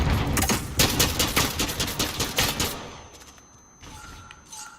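Rapid fully automatic AA-12 shotgun blasts in a video game, a dense loud volley lasting under three seconds, then fading to quieter mechanical game sounds.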